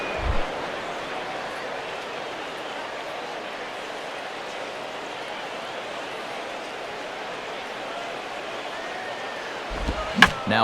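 Bat cracks against a baseball in MLB 11: The Show on PS3, during a Marlins-at-Giants game in San Francisco. A single sharp hit comes near the end over a steady roar of stadium crowd.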